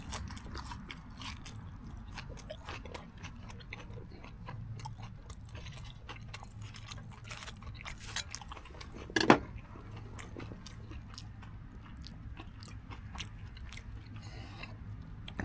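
Someone chews and crunches food topped with piccalilli inside a hot tent while camping, soft steady mouth sounds close by over a low background rumble, with one sharper crunch partway through.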